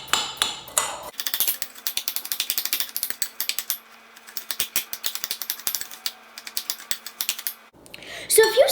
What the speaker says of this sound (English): I'm just going to stir my brown sugar and my graham crackers until well combined.